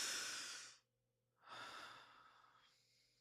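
A deep breath drawn in and let out during a guided mindfulness exercise, two soft airy rushes split by a brief pause, the second trailing off slowly, quiet and close with a faint low hum underneath.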